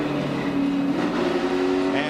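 NASCAR race cars roar around the track at Daytona with a steady, droning engine note. A commentator talks over the engines throughout.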